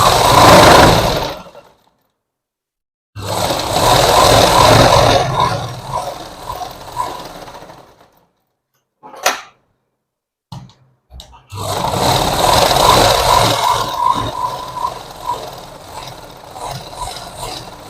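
A sewing machine stitches folded chudithar fabric in long, loud, steady whirring runs, with a few quiet pauses and short bursts between them. Nothing else is heard.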